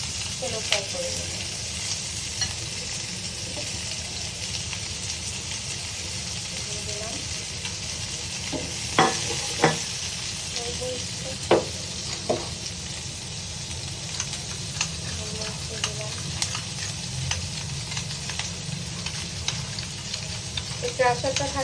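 Capsicum and onion fry in leftover chicken oil with pepper and salt, giving a steady, close sizzle throughout, broken by occasional sharp scrapes and taps of a stirring utensil against the pan.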